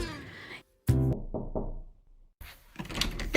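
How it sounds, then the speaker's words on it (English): Someone knocks at a door, a few firm knocks in a quick cluster in a quiet room, preceded and followed by soft voice-like sounds. "someone knocked at the door"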